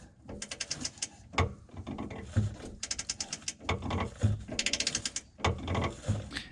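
A ratchet clicks in quick repeated bursts as it turns a threaded rod to adjust the rear coilover height on a GT350 with a Magneride coilover conversion, with short pauses between sweeps.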